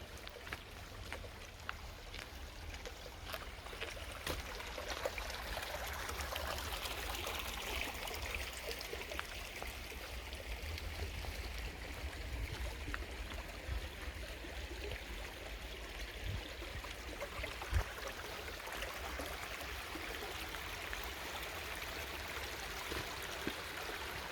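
Water of a stream at Oberlarg flowing in a steady, faint rushing wash, continuous and fairly distant, with a few small ticks and knocks; no talking.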